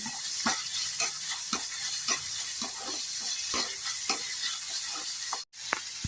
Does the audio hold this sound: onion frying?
yes